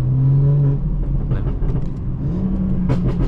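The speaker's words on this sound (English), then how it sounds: "Oh yeah, the burbles are back, bro." A Stage 2 BMW 440i idles with a deep, steady exhaust drone and scattered popping burbles crackling through it, close and loud for the whole stretch.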